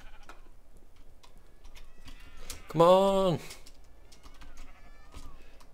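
A single sheep bleats loudly in Minecraft, one short wavering cry rising out of quiet keyboard clicks and background game sound, with a brief spoken exclamation nearby.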